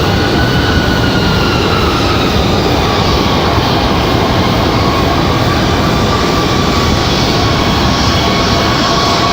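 A United Airlines Boeing 737 MAX 8 jet roaring at Raleigh Durham International Airport, a loud continuous broadband engine roar with a faint whining tone, steady throughout with no voices.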